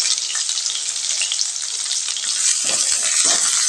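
Sliced onion, fennel seeds, curry leaves and green chillies fry in hot oil for a liver fry, giving a loud continuous close sizzle, with a few soft stirring scrapes toward the end.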